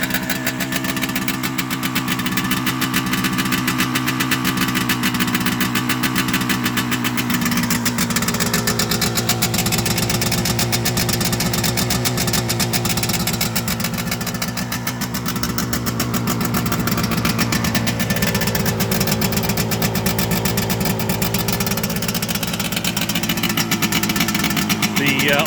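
A 1968 Suzuki T200 Invader two-stroke motorcycle engine runs at a steady idle after a kick-start, a continuous buzzy putter with slight swells in pitch, loud and close, with someone talking over it.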